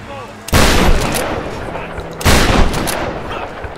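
Video-game gunfire in Tomb Raider: two loud, sustained bursts of shotgun-like blasts, one starting near the half-second mark and another around two and a quarter seconds, each ringing out over a noisy backdrop.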